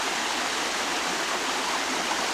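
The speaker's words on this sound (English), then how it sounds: "I enjoy listening to the waterfall." A waterfall in Stanley Park roars in a steady, dense wash of rushing water, loud and continuous with no pauses or voices.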